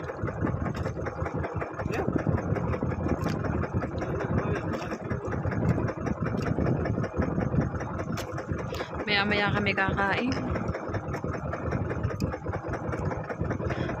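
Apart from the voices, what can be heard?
boat engine idling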